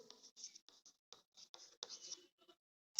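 Short scratchy strokes of writing on a board during a ninth-grade physics class come in quick, uneven bursts with brief pauses between them, close and fairly quiet.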